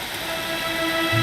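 Steady rain falling in the video game Dragon Quest XI, a continuous dense hiss of drops that stays even and fairly loud across the short stretch, with no talk over it.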